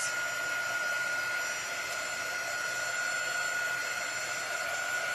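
A hair dryer runs steadily at close range, a constant airy whir with a faint high whine and no pauses.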